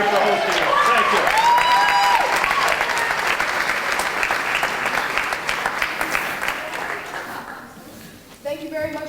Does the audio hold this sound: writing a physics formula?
no